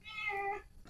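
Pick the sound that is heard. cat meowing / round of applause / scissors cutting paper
cat meowing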